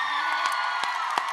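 A convention panel audience at Anime Pasadena claps and cheers in a steady, dense wash of crowd noise, with a few sharper whoops and claps standing out near the end of the short burst.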